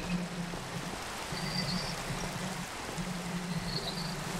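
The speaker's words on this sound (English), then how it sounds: "It's a nice rainy day today." Steady rain in Minecraft, a soft continuous hiss of falling water at low volume, with a faint low hum pulsing underneath and no talking.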